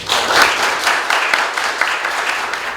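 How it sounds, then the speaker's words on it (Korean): An audience at a law school lecture event applauds to welcome a professor, a continuous moderate round of clapping with no talk over it. "김인현 교수님을 큰 박수를 맞아주시기 바랍니다"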